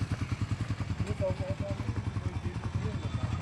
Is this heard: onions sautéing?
no